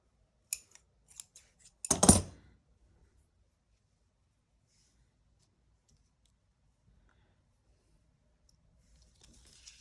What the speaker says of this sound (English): let's just cut it